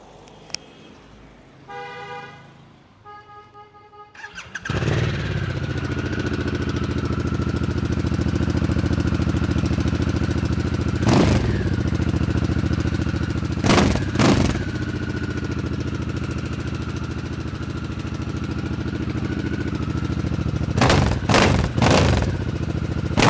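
Harley-Davidson motorcycle (Sportster S, 48 or Custom 1200) cranks over and fires up, then settles into a loud, close, rumbling idle broken by several sharp throttle blips, with no talking.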